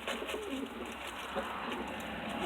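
Pigeons coo softly and repeatedly in a loft, low murmuring calls layered over a constant background hiss.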